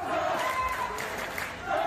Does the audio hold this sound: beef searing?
no